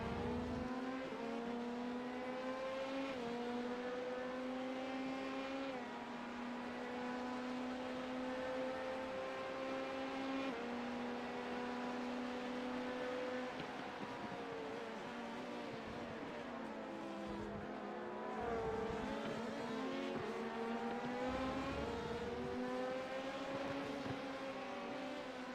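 A race car engine in the iRacing sim during a 24-hour endurance race at Monza drones loud and steady throughout, its pitch rising and dipping with gear shifts and throttle changes.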